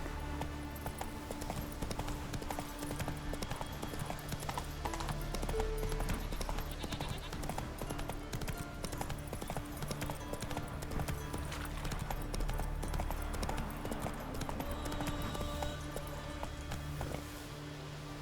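A horse gallops in The Witcher 3, its hooves clip-clopping in a quick, steady rhythm that sits inside dense, continuous game sound.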